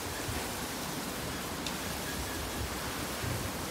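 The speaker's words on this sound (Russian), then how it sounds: "О, какой ветер." Steady, broad rushing noise roars continuously, like strong wind buffeting outdoors, with no pauses and no voices.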